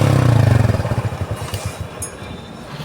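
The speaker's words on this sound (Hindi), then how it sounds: "न्यूट्रल बाइक और हम स्टार्ट करते हैं।" A Honda CD110 motorcycle with a modified exhaust and dB killer idles loudly nearby in rapid, rhythmic thumping pulses, then settles into a softer, rougher putter.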